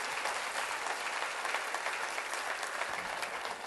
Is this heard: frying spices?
no